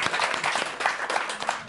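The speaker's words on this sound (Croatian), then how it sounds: "Pa bravo, jedan aplauz" Brief burst of audience clapping on a children's TV show after a host calls for applause, a bright, rapid patter of hands in a room.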